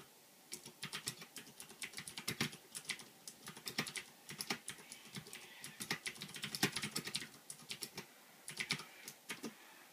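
Rapid, clicky typing on a Ducky DK9008 Shine 2 keyboard with Cherry MX Blue switches, crisp and close, in uneven bursts of keystrokes with short pauses between.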